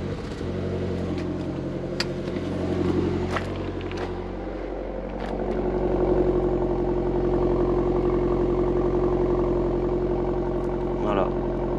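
A car engine runs steadily at idle, a low continuous hum with a brief rise partway through, close by and fairly loud, with faint clatter over it.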